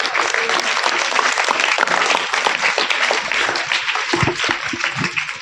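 An audience at a motivational seminar in a school claps continuously, a dense loud wash of applause that thins slightly near the end.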